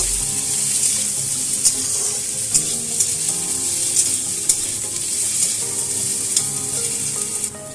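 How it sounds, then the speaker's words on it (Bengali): Chickpeas and ginger paste sizzling loudly in a frying pan as they are stirred, a steady frying hiss broken by repeated sharp scrapes of the utensil against the pan. "আদা বাটাটা দিয়ে এটাকে ভালো করে একটু আমি নাড়াচাড়া করে নেব"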